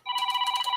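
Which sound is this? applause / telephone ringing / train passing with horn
telephone ringing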